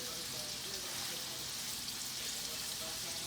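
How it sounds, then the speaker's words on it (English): Steady, soft sizzling of redfish frying in a pan, a continuous crackling hiss with no talking over it. "I'm gonna pan fry these a little bit."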